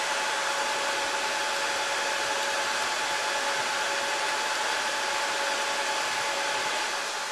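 Fans of a Dell PowerEdge 2650 rackmount server run loud and steady, a constant airy whoosh with a fixed high whine that holds unchanged throughout.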